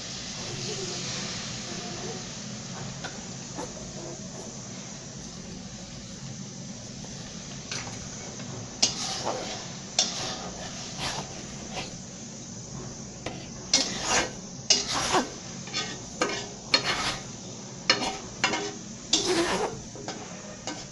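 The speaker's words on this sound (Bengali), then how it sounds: "প্রায় সেদ্ধ হওয়া পর্যন্ত এরকম নেড়ে চেড়ে রান্না করে নিব ঢাকনা দিয়ে ঢেকে।" Food cooking in a pan on a home kitchen stove, stirred with a utensil that scrapes and clinks against the pan in irregular bursts over a steady hiss of steam and sizzle.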